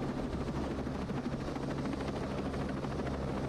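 A helicopter in the video game Ghost Recon Breakpoint gives off a loud, continuous rotor roar with a steady, rapid thumping pulse, close and alone.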